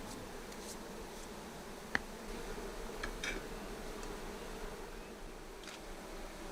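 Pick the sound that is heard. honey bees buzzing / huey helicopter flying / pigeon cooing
honey bees buzzing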